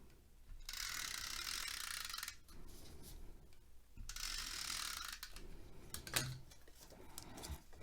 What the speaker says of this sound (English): I'm just using a double-sided tape. I'm using Stampin' Up's snail adhesive.